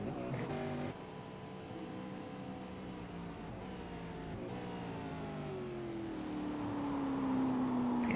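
A V8 Supercar engine from a racing video game at the Sonoma track, revving and shifting through gears with pitch climbing steadily, moderately quiet and with no talking.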